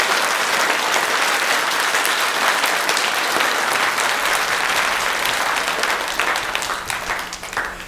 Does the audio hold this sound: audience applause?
yes